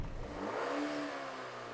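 A 2023 BMW X1's engine heard from outside, a smooth mid-pitched hum that swells briefly as it revs, then settles into a steady drone.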